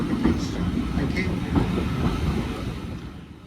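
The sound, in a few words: Swanage Railway steam train drawing slowly into station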